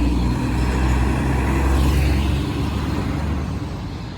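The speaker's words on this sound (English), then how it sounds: "The largest trucks are going by" Loud, steady low rumble of heavy trucks rolling past nearby, a continuous roar of engines and road noise with no talking.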